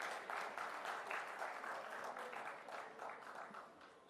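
Audience at a Youth Talk event in Hyderabad breaks into sustained applause, a dense wash of many hands clapping steadily for about four seconds at moderate, slightly distant loudness.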